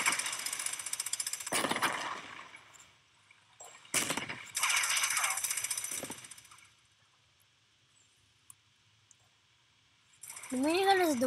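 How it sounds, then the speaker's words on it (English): A minigun in the Tanki Online tank game fires in several bursts of rapid, rattling gunfire separated by quiet gaps. A rising whine is heard at the close. "The minigun is the weakest gun, but the fastest"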